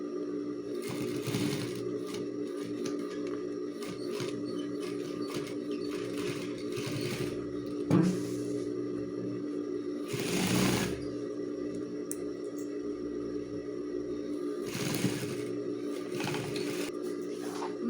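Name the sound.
sewing machine topstitching a school backpack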